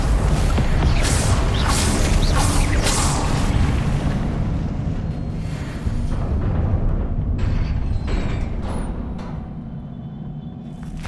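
Confringo blasting spell in Hogwarts Legacy on PS5, a loud, sustained rumbling explosion with crackling debris and mechanical creaks that slowly fades over several seconds, with no talk.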